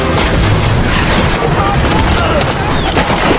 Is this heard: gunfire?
yes